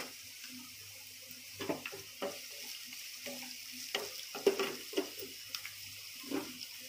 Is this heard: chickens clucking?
no